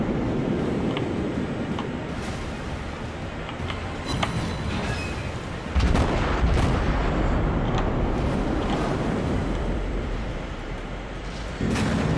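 Warship guns in World of Warships fire high explosive shells with deep booming blasts and rumbling impacts over a continuous heavy low roar that swells midway and lasts for many seconds.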